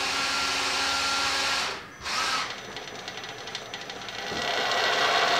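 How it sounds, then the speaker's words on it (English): A power drill whines loudly and continuously, cuts out briefly, then resumes with a strained, grinding tone as it bores in. "so I'm just going to drill about 3/4 way down."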